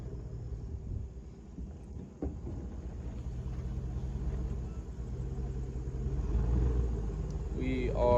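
Vehicle engine rumbling low and steady while reversing, with wind buffeting the microphone and the rumble growing slightly louder toward the end; a person talks briefly over it.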